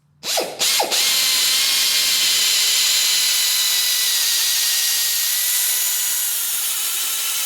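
A power drill bores out spot welds on the rusty sill of a classic Holden Torana GTR XU-1, starting with two short bursts and then running as a loud, steady, hissing whine close by with no talk.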